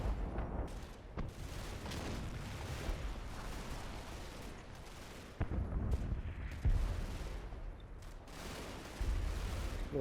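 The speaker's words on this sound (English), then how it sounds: "Really chunky firefight there." Gunfire and explosions crackle through a firefight in the Combat Mission video game, with scattered bursts and heavier thuds repeating irregularly at moderate volume.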